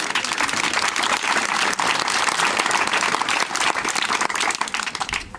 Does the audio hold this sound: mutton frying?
no